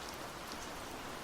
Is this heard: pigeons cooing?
no